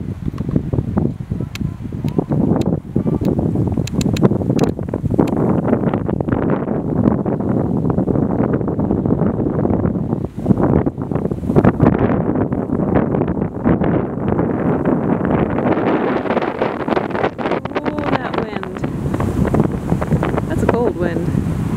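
Strong wind gusting steadily across the microphone on an autumn hike by Broomstick Lake in the Adirondacks, a loud continuous roar with no break and no talking.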